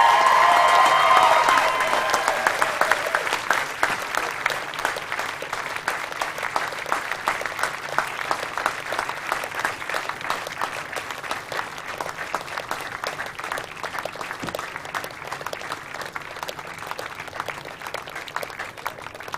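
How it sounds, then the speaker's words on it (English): A long round of audience applause at a local hero awards ceremony, dense and loud at first, then settling into steady, slightly thinner clapping that continues throughout. "everybody's going to clap for you again now to show you how brilliant you are"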